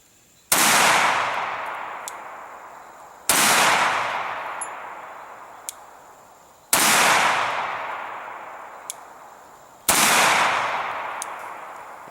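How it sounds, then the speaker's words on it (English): Four loud Glock 41 pistol shots fired outdoors in warm, muggy air, each a sharp close blast with a long ringing decay, spaced about three seconds apart. "we're firing a distance of 7 feet like usual"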